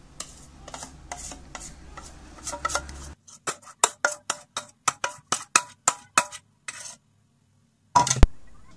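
A cake tin filled with vanilla sponge batter is tapped repeatedly on a surface, giving a run of sharp, evenly spaced knocks that grows steadier, then a short pause before two final louder raps.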